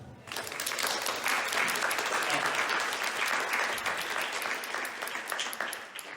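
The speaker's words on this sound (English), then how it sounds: "some applause for Stefan Söderberg" Audience applause at a Stockholm Fashion Week designer spotlight talk, dense, steady clapping from a seated crowd that holds loud and even throughout, tapering only slightly at the end.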